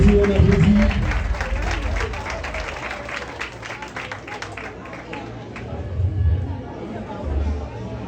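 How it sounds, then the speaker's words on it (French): Applause from a ceremony audience, a steady burst of clapping with chatter and crowd murmur mixed in, fading somewhat toward the end as low voices continue. "On applaudit, on applaudit, on applaudit."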